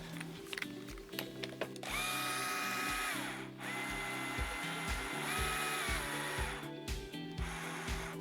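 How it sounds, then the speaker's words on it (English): A guitar string is wound onto a tuning peg with a steady run of rhythmic ratcheting clicks and a whirring tone that rises and falls across several bursts of winding, close up with no talk. "So as we wind, the string is going to wind down on this little extra tail that we have."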